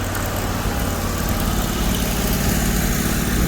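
A farm grain auger's engine idles with a steady, loud, droning rumble close by while seed bins are cleaned out, holding an even tone with no break.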